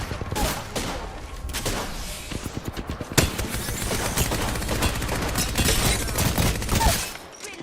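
Heavy gunfire in a shooter video game, with sharp rapid bursts and a big blast partway through, followed by sustained loud firing and explosions throughout.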